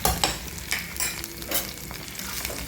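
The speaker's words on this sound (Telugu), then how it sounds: "పచ్చిమిరపకాయలు పచ్చి లేకుండా వేయించుకోవాలి" Green chillies fried and stirred in a hot pan for a ginger chutney, with repeated scraping strokes over a steady oil sizzle, close and fairly loud, with no voices.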